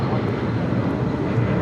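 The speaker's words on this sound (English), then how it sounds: "This is Delta Airlines 873 taking off to Atlanta, Georgia on a 757-300" Delta Air Lines Boeing 757-300 departing LAX for Atlanta, heard as a brief, steady low engine rumble at moderate distance, with no voices over it.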